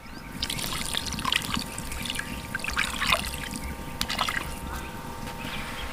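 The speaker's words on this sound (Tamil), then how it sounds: "சீனி முழுங்குற அளவுக்கு ஊற்றிக்கலாம்." Water trickles and pours onto sugar in a pot for village-style Mysore pak syrup, a steady close splashing dribble with small bright splashes throughout, no talking.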